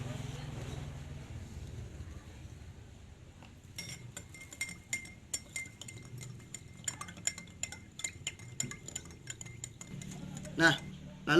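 A spoon clinks repeatedly against a glass of water while stirring in sugar, quick irregular taps over a low background hum.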